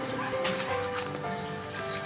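Dogs bark at a house near a farm with fruit trees and garden plants, sharp yaps and barks popping up at a moderate distance over a busy, noisy background.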